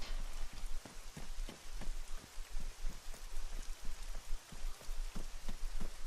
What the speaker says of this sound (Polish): Jak ten deszcz tak pada.